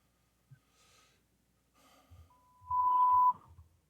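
A steady electronic beep holds for about a second, with faint breathing and soft low rustles around it in an otherwise quiet room.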